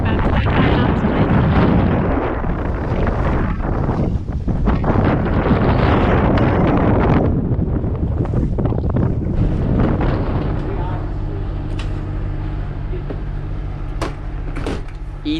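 Strong wind of about 25 knots buffets a sailboat entering a narrow, shallow passage, loud gusty roaring and rumbling across the microphone, easing toward the end into quieter rattles and knocks.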